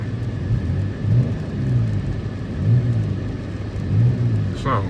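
During a snowstorm car meet, a Dodge Charger engine revs several times in low, muffled swells that rise and fall every second or two, while people talk nearby.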